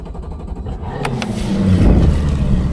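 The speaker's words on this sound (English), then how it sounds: "Merc 250 is fired up." A Mercury 250 outboard motor on a bass boat cranks and fires up, settling into a steady, loud rumbling idle after a brief click.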